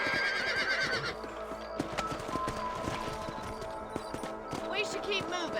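Horses gallop with steady clip-clop hoofbeats and a whinny in the Western video game Red Dead Redemption, hooves close and continuous, with music and a voice speaking over them.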